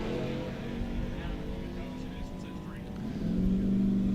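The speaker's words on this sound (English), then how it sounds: "So the Mustang's spooling up." Ford Mustang drag car spooling up at a drag racing event, a steady low engine drone with a rising tone toward the end, heard under continuous announcer commentary.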